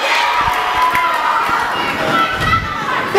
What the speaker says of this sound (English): And this crowd is on their feet.